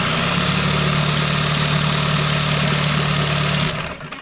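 A 1990 Evinrude 9.9 outboard motor idles loudly and steadily up close with an even low hum and rattling throb, then cuts off near the end, leaving a fading rumble.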